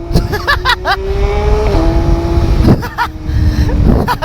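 Yamaha MT-09 motorcycle hit with sudden full throttle: a loud, close engine note rises and sustains in a strong rev, then drops and revs again, with a rider's voice exclaiming over it.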